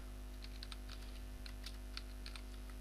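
Quiet keystrokes clatter on a computer keyboard, an irregular run of soft taps over a steady background hum.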